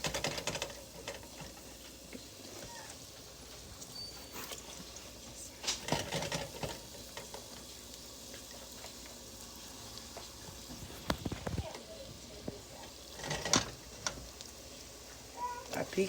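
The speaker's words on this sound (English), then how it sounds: "So I just take a small amount and I drop in the oil." Small pieces of beignet dough fry in hot oil with a steady, fine crackling sizzle, punctuated by occasional louder pops and spatters, close and moderately quiet.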